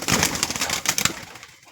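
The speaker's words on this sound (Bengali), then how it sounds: "দেখুন আমার কবুতরগুলো কি সুন্দর ডাকতে মত্তরে আসে।" Pet pigeons make a cluster of soft, close coos and fluttery pulses that fade toward the end.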